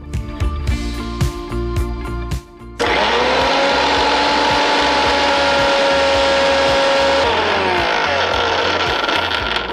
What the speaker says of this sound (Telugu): ఇవి మిక్సీ పట్టేద్దాం.